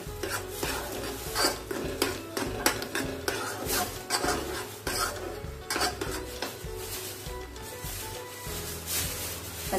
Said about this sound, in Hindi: मिक्स करके पकने के लिए ताकि प्याज टमाटर मसालों के साथ अच्छी तरह से